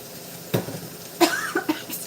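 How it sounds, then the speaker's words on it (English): A person in a kitchen coughs several times in short, sharp bursts close to the microphone, with faint cooking clatter and sizzle behind. "Excuse my cough."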